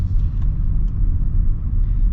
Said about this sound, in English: wait for this truck to go by